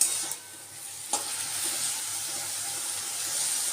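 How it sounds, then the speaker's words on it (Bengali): Banana stem frying in a pan with a cumin, bay leaf and dried chilli tempering, giving a continuous close sizzle with a couple of sharp scraping stirs near the start. "জিরে তেজপাতা শুকনো লঙ্কা ফোড়ন দিয়ে থোরটাকে ভালো করে ভেজে নিচ্ছি"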